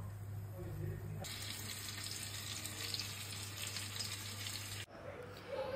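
Chicken chap frying in oil in a frying pan, a steady quiet hiss of sizzling that jumps louder early on and stays even, with a brief drop near the end.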